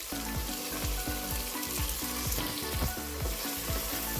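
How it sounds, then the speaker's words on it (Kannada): Ginger garlic paste sautéing in a hot pan for tomato pulao, a dense crackling sizzle with rapid popping spatters, close and steady. "ಶುಂಠಿ ಬೆಳ್ಳುಳ್ಳಿ ಪೇಸ್ಟ್ ಹಾಕಾದ್ಮೇಲೆ ಈ ರೀತಿಯಾಗಿ ಬಾಡಿಸ್ಕೋಬೇಕಾಗತ್ತೆ"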